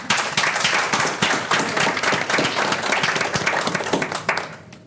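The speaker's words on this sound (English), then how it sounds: "So maybe a big applause for Andrea." Audience at a startup panel discussion event applauding, dense continuous clapping that fills the room at fairly close range and fades out at the end.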